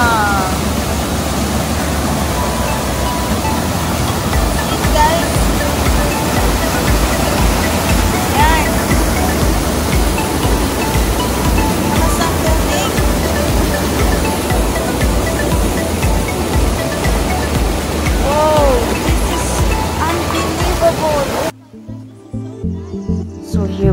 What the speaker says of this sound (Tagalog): The water is so clear at ang lamig-lamig at ang lakas ng current ng tubig guys.